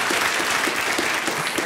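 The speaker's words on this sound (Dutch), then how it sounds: "Applaus hoor, applaus." Steady audience applause in a television studio for the show's technical crew, dense and even through the short stretch with no voices.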